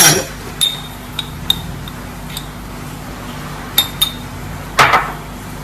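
Metal utensil clinks sharply against a bowl while jackfruit snack batter is mixed, a handful of scattered separate clicks and taps over quiet background hum.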